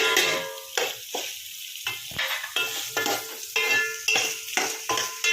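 Onions, green chillies and curry leaves frying in a pan for chicken biryani, with a steady sizzle broken by repeated close stirring scrapes at a regular rhythm, no voices.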